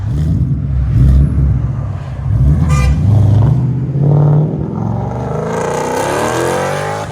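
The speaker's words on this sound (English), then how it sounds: "Bass mode out of a BASSANI exhaust. That sounded phenomenal." A 2012 Ford Mustang GT with Bassani rear exhaust, resonator delete, mid-length headers and an X-pipe revs loudly and close in several deep surges, then settles into a rumbling idle.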